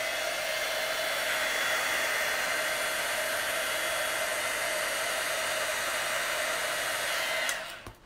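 A craft heat tool blows steadily and loudly on a card embellishment, a constant close-up rushing hiss lasting around seven seconds before switching off.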